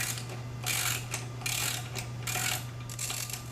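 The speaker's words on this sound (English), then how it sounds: "these two nuts that you need to loosen on these bolts" Ratchet turning the nuts on the bolts of an Ohlins shock on a Honda Grom, with quiet repeated clicking bursts spaced out over steady background hum.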